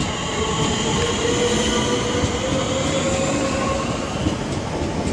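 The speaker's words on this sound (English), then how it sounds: "now getting ready to depart is 465171 and something else on the rear" A Southeastern Class 465 electric multiple unit, 465171, pulls away from Northfleet station, its steady rolling rumble and rising motor whine carrying along with light wheel squeal, close and continuous.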